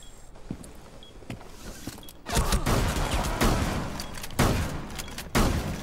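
Shotgun blasts in the video game Rainbow Six Siege: several loud, sharp booming shots at irregular intervals, the later ones louder over a rumbling background of game noise.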